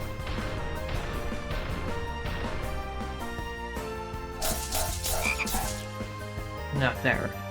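Frog croaks from a video game sound over steady game music, several short bursts clustered in the latter half, mixed with a light thud or smack.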